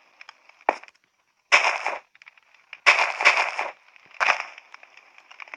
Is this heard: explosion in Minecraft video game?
yes